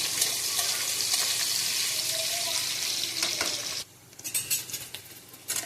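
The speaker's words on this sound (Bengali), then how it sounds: "এবার পেঁয়াজটাকে একটু সুন্দর করে ভেজে নেব।" Onions frying in a pan, a loud continuous hiss and sizzle with stirring scrapes, dropping off abruptly near the end before a few clattering utensil knocks.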